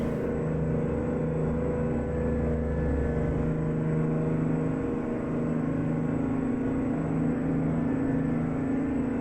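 Mack R truck with a 6V-92 diesel engine in American Truck Simulator, pulling a fuel load up a climb in top direct-drive gear at about 1250 rpm: a steady, loud low engine drone with a deeper rumble early on, continuous throughout.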